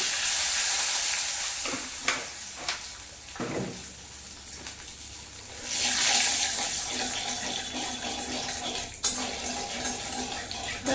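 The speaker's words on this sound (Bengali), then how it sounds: "ওই তেলের মধ্যে তেজপাতা দিয়ে দেবো, আর দিয়ে দেবো চিনি।" Bay leaves and sugar frying in hot oil in a kadai for a mutton and chicken red curry: a steady, hissing sizzle with scattered crackles and a few stirring knocks, close and loud, swelling midway, no speech.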